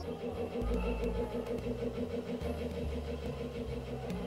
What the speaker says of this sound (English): Why do school buses sound like that?